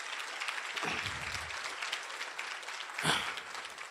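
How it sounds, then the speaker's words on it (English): Audience applause at a business breakfast convention, a moderate patter of clapping with a louder burst near the end. "Can we get another round of applause?"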